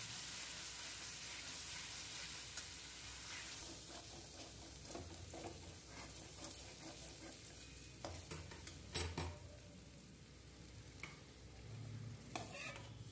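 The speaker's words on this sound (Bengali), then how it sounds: "মশলাটা ভালো করে কষিয়ে নিচ্ছি।" Masala spice paste sautéed in a pan with Kashmiri chili powder, a steady close sizzle broken by scraping stirs of a spoon, with no talking.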